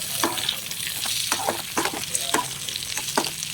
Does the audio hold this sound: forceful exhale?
no